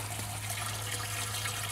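Water pours steadily into an aquaponics sump beside a bead filter, a constant broadband rush with a low hum underneath, close and unbroken throughout.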